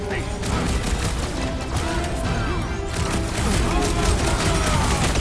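Rapid blaster shots from a sci-fi shooter battle in Guardians of the Galaxy, firing in dense repeated bursts amid explosions, mechanical clatter and heavy combat noise, with speech mixed in over the din.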